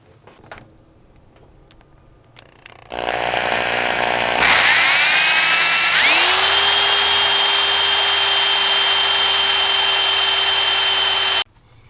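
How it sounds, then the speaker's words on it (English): A power drill whirs loudly and steadily for several seconds, its pitch rising as it spins up, then cuts off abruptly, drilling through the fender of a classic Jeep. "let's drill this bad boy."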